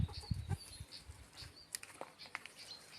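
Chickens clucking nearby with bursts of wing flapping and rustling, irregular and fairly quiet, no talking.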